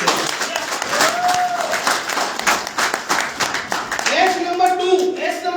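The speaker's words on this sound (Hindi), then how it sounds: "अब बजाओ ताली मोदी के लिए।" Audience clapping at a Modicare business seminar, steady rhythmic claps from a crowd filling the room, with a voice speaking over part of it.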